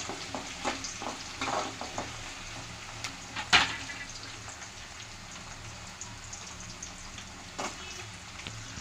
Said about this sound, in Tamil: கோல்டன் ப்ரௌன் ஆகிற வரைக்கும் நீங்கள் இதை வதக்கிட்டு இருக்கணும்.